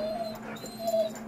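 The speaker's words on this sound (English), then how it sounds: "The dogs are very much in play mode right now." Dogs at play indoors give off short whimpering, whiny vocal sounds over a steady background hum, fairly close and moderately loud.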